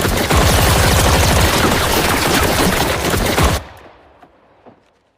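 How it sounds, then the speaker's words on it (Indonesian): Gunfire in a film scene of shooting practice: loud, rapid, overlapping shots in a dense, continuous volley that cuts off abruptly, followed by a few faint scattered clicks and a quiet tail. "Esok harinya Markus mengajari mereka cara menembak"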